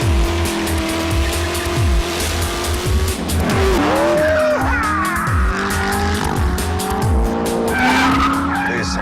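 A Chevrolet Corvette ZR1 with a supercharged 6.2-litre engine is driven hard, its engine roaring loud and close as it revs and shifts. Repeated tire squeals and skids cut in throughout, with a voice faintly underneath.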